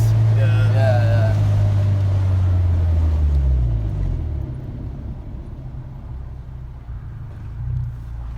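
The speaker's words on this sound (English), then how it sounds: "You can really hear the VTEC engage when it's that low though too." An Acura RSX Type S K20Z1 engine revs high up close with VTEC engaging, then its pitch sweeps downward as it winds down, leaving a quieter low rumble with voices nearby.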